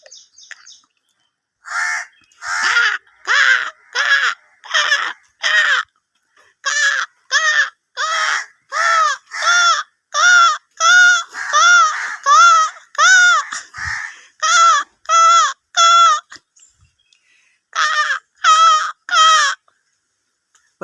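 A man imitates crow calls with his voice, giving loud, close, hoarse caws in quick runs of three to five with short pauses, about two dozen in all.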